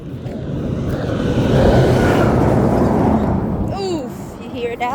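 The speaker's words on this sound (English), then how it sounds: "Oof, you hear that? That's a big truck." Large vehicle passing close by, a loud low rumble swelling to a peak in the middle and then fading, with voices talking over its tail end.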